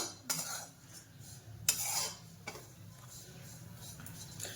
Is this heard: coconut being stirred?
yes